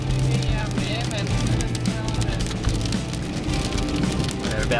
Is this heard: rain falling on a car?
yes